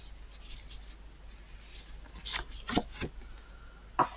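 A few brisk papery riffles and snaps of cards being shuffled, fairly close, with a quiet rustling background and a pause between bursts.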